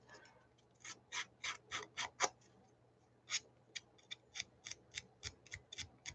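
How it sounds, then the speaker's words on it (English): Scissors snip around the edges of a paper craft tag to tatter them, giving quick, close, crisp cuts in short bursts with a brief pause between groups, in a quiet room with no talk. "I just tend to do it with my scissors"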